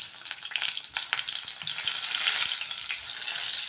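Stuffed brinjals dropped into hot oil with cumin, a continuous close sizzle and crackle of frying with occasional stirring clicks, no talk.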